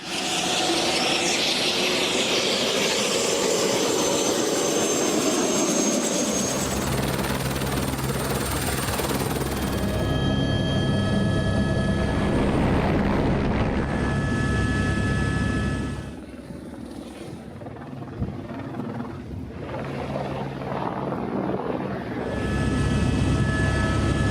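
A helicopter on an aerial electromagnetic gold survey flies overhead, giving a loud, steady rotor and engine roar that holds for the whole stretch, dips briefly partway through, then swells again.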